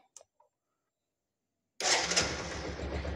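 A Bajaj Platina H-Gear motorcycle engine fires up after a near-silent pause with a couple of faint clicks, then settles into a steady, close idle.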